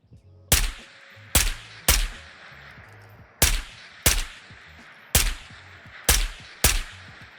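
Eight sharp gunshots ring out in the video game Ghosts of Tabor, fired singly and in quick pairs with short gaps, each loud and close with a decaying echo tail over a low ambient hum.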